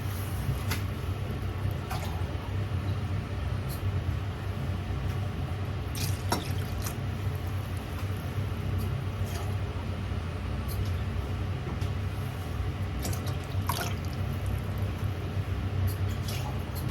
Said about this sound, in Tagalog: Ngayon naman, lagyan na natin ng tubig.